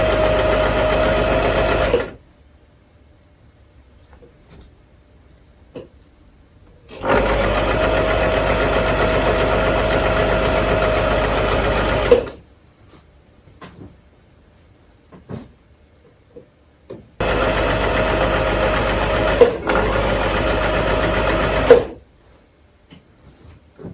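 A sewing machine hemming a black summer dress runs in three loud, steady bursts of several seconds each, separated by near-silent pauses with small handling clicks.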